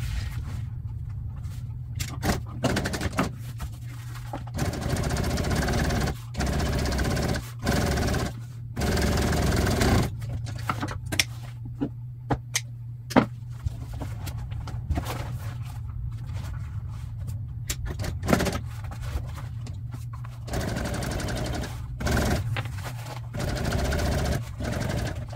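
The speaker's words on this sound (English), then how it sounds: "So I'm going to sew these bottom insert pieces together first, because they have to be sewn before we put them on foam." An upholstery sewing machine stitches vinyl seat insert pieces for RV motorcoach seats, running in loud steady bursts of whirring stitching broken by short pauses and handling scrapes.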